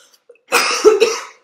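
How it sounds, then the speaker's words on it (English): A single close, loud cough from a woman, a harsh burst that trails into a short throaty rasp, with near silence before and after. "That cough still sneaks up on me."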